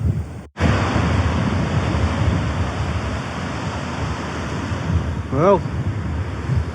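Surf breaking on a beach, a loud, steady wash of waves with gusty wind buffeting the microphone, nearly continuous apart from a brief dropout, with someone speaking a word over it.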